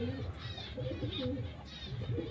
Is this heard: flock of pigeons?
yes